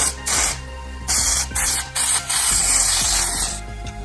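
Spraying cleaner onto a computer radiator: loud, close hissing bursts of several spray pulses separated by short pauses, over a steady low machine hum.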